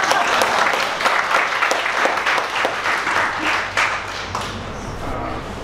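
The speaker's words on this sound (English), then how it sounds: "Maybe we can clap" An audience applauds after a lecture on language documentation, with many hands clapping in a lively, close, uneven patter that thins and fades toward the end.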